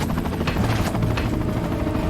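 Helicopter in the video game Resident Evil 4 (Wii edition), a loud continuous rotor chop pulsing rapidly and steadily, heard alone without voices.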